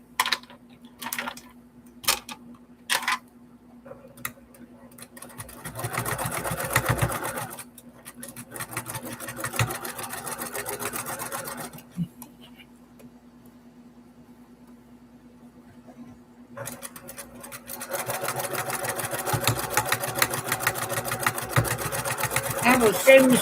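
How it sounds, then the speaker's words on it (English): A sewing machine used for quilting chatters in bursts: a few sharp clicks first, then two stretches of steady stitching separated by a quiet gap, moderately loud and close. "I bought this sewing machine when I started quilting 9 years ago."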